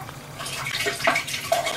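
Water gurgles and trickles as a steam boiler drains, a close, splashy flow with a few brief drips and bubbling pops, heard alone.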